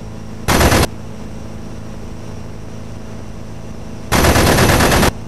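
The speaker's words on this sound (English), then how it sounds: "Let's fire a test burst, make sure we're going." Two loud bursts of aircraft machine-gun fire from a flight combat video game, a short burst then a longer one, each a dense rapid rattle over a steady engine drone.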